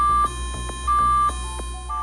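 An AMSCO 400 Series medium steam sterilizer sounds its alarm tone: a steady run of clear electronic beeps, with one slightly longer tone, and no one speaking.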